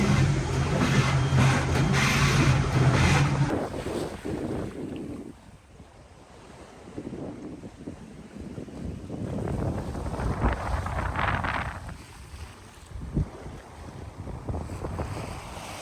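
A sailboat moves through light wind on the Southern Ocean, with rushing water, wave wash and wind buffeting the microphone, loud at first, easing, then building again across the stretch.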